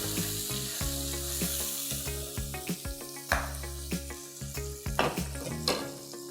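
Steady oily sizzling of tomato puree frying in hot oil in a pan, running underneath prominent background music with a steady beat.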